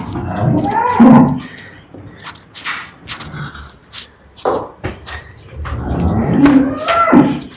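Cows at a farm where they are offered for sale moo loudly and repeatedly, deep drawn-out lowing calls close by, with faint shuffling and background noise between them.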